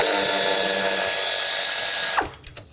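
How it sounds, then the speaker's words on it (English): A power tool whirs steadily on a 10mm bolt at the intake of a Nissan Pathfinder 3.5L V6, a loud continuous buzzing that cuts off abruptly near the end, followed by a few small metallic clicks. "I'm going to take this bolt out. It's a 10mm size."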